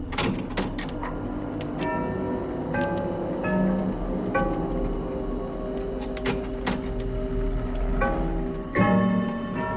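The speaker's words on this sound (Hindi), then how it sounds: "वो घड़ी की आवाज सुना तुमने?" Regular mechanical ticking of a clock in a quiet room under a low background hum, with sharper knocks and a louder clack near the end.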